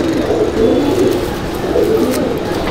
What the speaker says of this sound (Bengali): নর পায়রাটা আগে দেখাবো